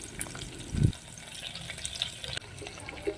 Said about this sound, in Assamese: এতিয়া অকণমান নহৰু এইদৰে সৰু সৰু টুকুৰাকৈ কাটি লৈ দি দিছোঁ তেলত